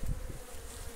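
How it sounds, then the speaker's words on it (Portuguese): Apis honeybees buzz around a cabiuna tree stump during a swarm capture, a steady close drone with a brief louder pass near the start. "E as abelhas vai saindo aqui, ó. E entrando tudo lá na caixa."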